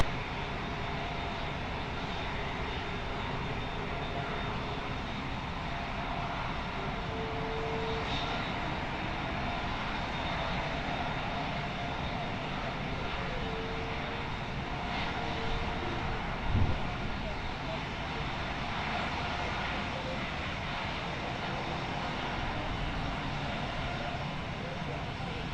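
A fixed-wing airliner's engines hum steadily at Lisbon Airport near runway 20, giving a continuous, moderately distant roar that holds level throughout with only slight swells, and no voices are heard.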